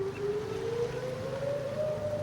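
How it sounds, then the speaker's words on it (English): Whelen outdoor warning siren wailing in the distance in Columbus, Georgia, one steady tone slowly rising in pitch over a constant rumble of background noise. "I think I can hear a siren still running an air horn."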